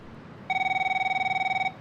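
A telephone rings as a caller phones in live to a radio call-in show, one steady electronic ring lasting over a second, loud and clean with no voices.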